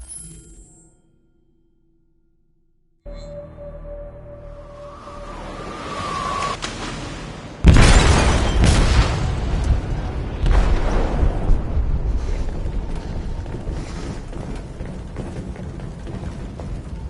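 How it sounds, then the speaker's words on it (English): In a video game, an explosive detonates in a ship's hold. Quiet rumble and a faint rising tone build up to a sudden loud blast, followed by a long roaring, crackling aftermath. "They detonated an explosive in the hold."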